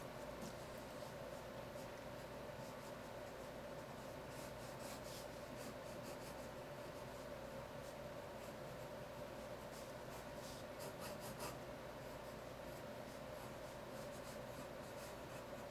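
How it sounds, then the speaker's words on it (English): Pencil shading across paper while graffiti letters are drawn, a steady soft scratchy rubbing that continues with small strokes throughout, close and fairly quiet with no talking. "Kind of put like a drop shadow on the drop shadow with pencil."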